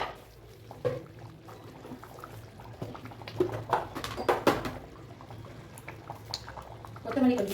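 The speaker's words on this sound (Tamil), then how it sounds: "பாருங்க சூப்பராக கொதிச்சிச்சு" Chicken curry gravy bubbling in a pot, a soft continuous simmer with scattered pops and bursts, close and moderately loud, with a few clinks and a voice speaking over it.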